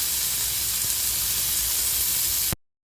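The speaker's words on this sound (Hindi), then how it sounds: "अभी इसमें अच्छे से चिकन पकने तक इसको भून लेंगे।" Chicken fries in hot oil on a tawa with a loud, dense hiss and sizzle that runs steadily for a couple of seconds and then cuts off abruptly into silence.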